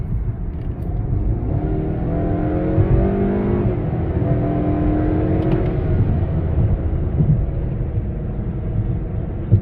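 A 2018 Honda Accord 2.0T turbo with a K&N drop-in air filter accelerates hard, heard from inside the car. Its engine drone rises steadily in pitch, runs loud and continuous over road rumble, then settles briefly before climbing again.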